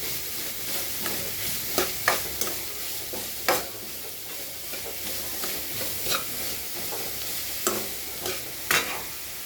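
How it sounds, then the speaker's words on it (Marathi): Grated onion fries in ghee in a pan, a quiet continuous sizzle broken by occasional sharp stirring scrapes, with no speech. "याच्यामध्ये तूप टाकलं आणि किसलेलं कांदा टाकूया दोन मिनटं करतो"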